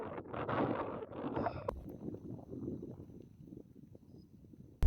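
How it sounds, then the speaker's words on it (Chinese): Strong headwind buffets the microphone of a cyclist riding a wide river valley on the Xinjiang–Tibet road, a continuous loud rumbling roar that eases slightly after a brief burst, ending in a sharp gust. "下午这个大风又吹起来了，尤其迎面吹来这个风，吹的人很难受。"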